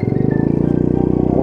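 A Honda Monkey Z50J 50cc moped fitted with a front basket putters along while ridden, giving a steady, rapid single-cylinder thrum that stays loud and even throughout.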